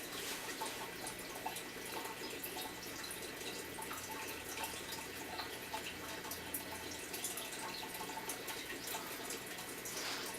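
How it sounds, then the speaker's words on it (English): Steady bubbling and trickling water from an aquarium tank housing Jack Dempsey fish, a continuous broadband wash with faint drips, moderately distant and alone without talk. "That bubbling noise in the background is my other tank where I'm keeping the rest of my Jack Dempseys"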